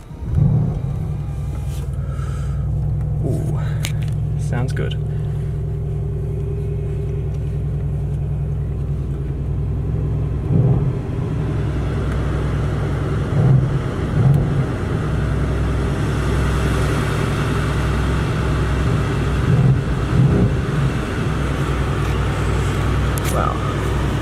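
A 2017 Mercedes-Benz C63S AMG starts up and settles into a deep, rumbling idle heard from inside the car, the loud low engine drone steady throughout with occasional revs and brief talk.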